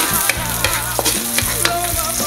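Garlic sautés in a hot pan, giving a steady bright sizzle with a few sharp clicks and stirring scrapes near the microphone.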